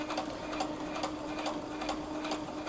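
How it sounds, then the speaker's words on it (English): Sewing machine stitching along the sides of a fabric pocket for a tote purse, a steady close mechanical whir with a regular ticking rhythm. "I am now stitching along the sides of the pocket."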